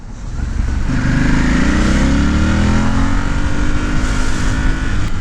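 A 2007 Ducati Monster S4RS motorcycle is ridden on the road, its engine droning steadily and loudly up close, with rising tones as it accelerates through the gears and no speech.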